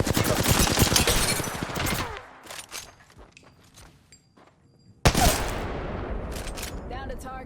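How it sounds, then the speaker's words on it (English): Gunfire in the Apex Legends battle royale on the Olympus map: a dense burst of rapid shots for two seconds, then scattered distant pops, followed by another loud burst that tapers off, with no talking. "I'm getting shot at."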